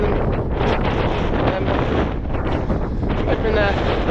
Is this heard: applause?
no